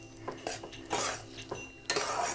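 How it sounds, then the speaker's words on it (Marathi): Mohanthal being stirred continuously in a pan, with a spoon scraping and clinking against the metal in irregular strokes, close and moderately loud, with no voices. "म्हणून याला अजिबात हलवायचं बंद करायचं नाही, सतत हलवत राहायचं."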